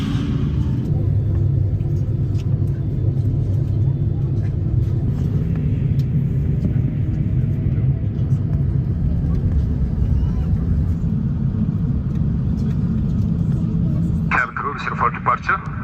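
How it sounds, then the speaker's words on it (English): An Ethiopian Airlines Airbus jet with Rolls-Royce XWB engines sits preparing for takeoff, heard from the economy cabin as a steady loud low engine rumble and roar, with a voice talking over it near the end. "And boy was I ready to hear those XWB engines."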